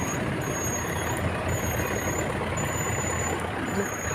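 Heavy traffic rumbles past on a city street with trucks and buses, a steady, loud engine drone, with a high reversing-style beep repeating faintly above it throughout.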